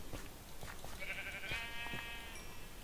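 Sheep bleats from Minecraft, a few short nasal cries spaced through the moment at moderate level over a faint steady background, with no talking.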